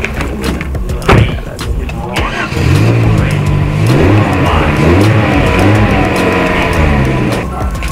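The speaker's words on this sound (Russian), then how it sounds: "Я бегу и прогреваю машину." A car engine cranks and catches after a brief scuffle, then settles into a loud, steady warm-up idle with rising revs, close by, alongside some talk.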